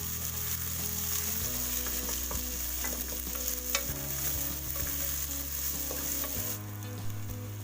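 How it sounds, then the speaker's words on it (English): Chopped red onions frying in melted fat in a sufuria, a soft continuous sizzle with occasional stirring scrapes and clicks, steady and moderately quiet over a low hum. "I'll need to add my red onions chopped"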